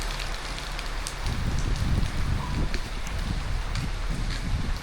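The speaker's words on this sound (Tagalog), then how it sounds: "Hindi na ganun kalakas yung ulan." Steady moderate rain pours down outdoors in a town street, a dense hiss with low rumbling patter that thickens after the first second and carries on without speech.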